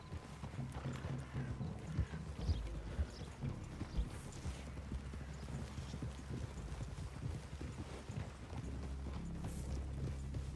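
Horse hooves clip-clop at a walk in Red Dead Redemption 2, a quiet, uneven plodding rhythm over low rumbling ambience, with no talk.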